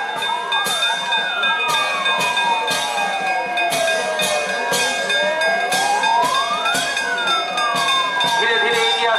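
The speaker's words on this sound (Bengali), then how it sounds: "আসছে ফায়ার সার্ভিস।" Fire service vehicle in a Republic Day parade sounding a loud, wailing siren that sweeps slowly up and down, with a rapid ringing bell beating throughout and crowd noise underneath.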